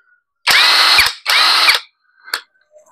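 A Purple Star 48V cordless brushless impact wrench fitted with a wood drill bit runs in two loud, close, whining bursts of about half a second each, followed by a short faint whir.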